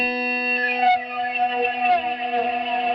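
A sustained, ringing guitar effect tone from a resonating short delay holds a steady pitch that slowly shifts and wobbles as the rate knob is swept, with faint distortion.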